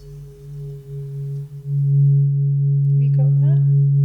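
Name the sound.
Himalayan singing bowl ringing with harmonics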